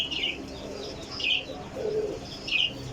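Several desi flying pigeons in a loft coo softly, with a few short, higher chirps recurring about every second against a steady low background hum.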